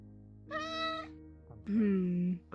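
Two drawn-out meows from a cat, close and clear, the first higher and brighter, the second lower and longer after a brief pause.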